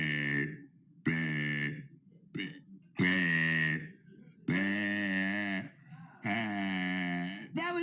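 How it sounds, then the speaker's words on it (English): A person's long, deliberate burps, six of them in a row, loud and close with deep throaty resonance, separated by short pauses. "That was day 94 of burping for 100 days."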